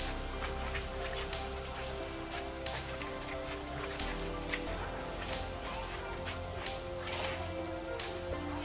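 Heavy village rain in a storm pours down as a steady, dense hiss with patters of drops on surfaces, continuous and fairly close throughout.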